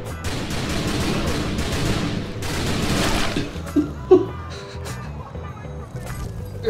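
Gunfire in The Typing of the Dead: Overkill, dense bursts of shots through the first half with loud dense game sound, thinning out later with a couple of sharp hits, under a voice talking.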